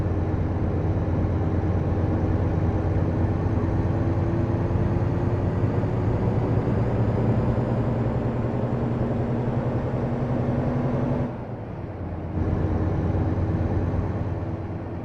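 A heavy truck engine drones steadily while driving in American Truck Simulator, loud and continuous, with a brief drop in level near the end before the drone resumes.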